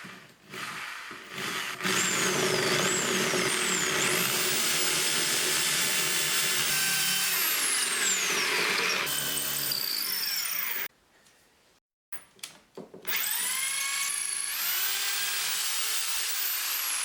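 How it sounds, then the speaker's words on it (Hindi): A power drill set to torque mode drives a masonry bit into a concrete brick, making a loud, whining motor roar with sliding pitch. It cuts out briefly near the middle, then revs back up and grinds on. "अब मैं आपको कंक्रीट के ब्रिक में ड्रिल करके दिखाऊंगा। इसके लिए मैं मैसनरी बिट का ही यूज करूंगा।"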